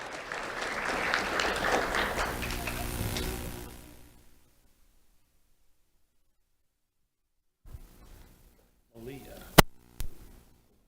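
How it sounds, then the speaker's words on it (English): An audience claps for two honored eighth-grade students at an awards ceremony, a full burst of applause lasting a few seconds before fading into silence, followed by brief scattered sounds and voices. "Let's have a round of applause for Malia and Micaiah."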